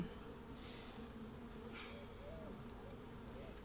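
A dense, steady drone of many honey bees buzzing around a hive during a hive inspection, constant and low, with occasional individual bees passing closer.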